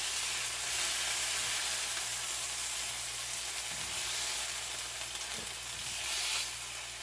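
Steaks sear in olive oil in a pan, giving a loud, continuous, close-up sizzle and hiss with a couple of faint knocks underneath.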